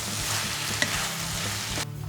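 Caponata vegetables with eggplant sizzling in a pan while being stirred, a dense close crackle with a sharp utensil clink near the middle and the hiss dipping slightly at the end.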